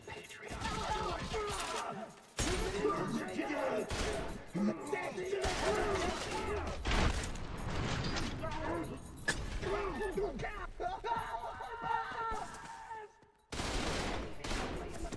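Sustained gunfire in Trepang 2 rattles in dense bursts of rapid shots with shattering and crashing impacts, loud and near, broken by a couple of short pauses across the stretch.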